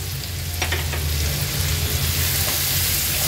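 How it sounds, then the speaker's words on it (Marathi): Chopped onion and two green chillies sizzle steadily in hot oil in a pan for an aubergine bharta, a continuous close frying hiss with a low rumble and a few faint stirring clicks, no voices. "आता आपण ह्यात एक मोठा चिरलेला बारीक कांदा ऍड करणार आहोत आणि 2 हिरव्या मिरच्या।"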